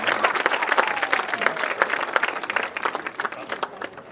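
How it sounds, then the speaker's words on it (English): A crowd at a high school football senior night applauds the team's seniors with a dense, steady wash of clapping that holds for several seconds. "One more round of applause for our football seniors."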